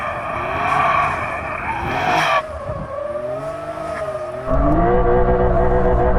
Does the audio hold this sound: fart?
no